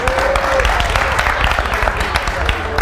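A studio audience at a television entertainment show claps steadily and densely for about three seconds, with a voice briefly heard over the applause.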